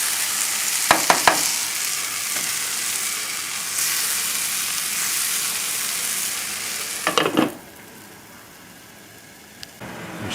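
Vegetables sizzle in a pan over a very high flame, a steady bright hiss running throughout with a few sharp clatters of stirring, then settling quieter near the end.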